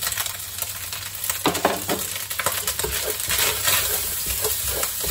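Rice frying in plenty of oil for egg fried rice, turmeric mixed through, giving a steady, close sizzle with scraping stir strokes and light clinks from the utensil, no voices.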